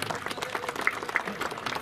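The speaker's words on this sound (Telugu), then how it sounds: "Players claps." Players clap at the opening ceremony of a district sports event, a brief patter of scattered applause from a modest crowd, fairly distant and soft.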